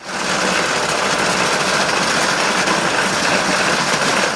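An electric animal feed pellet machine, which grinds grain and plant material into pellets, runs with a steady, loud mechanical drone and whir close by, continuous and unbroken throughout with no talking.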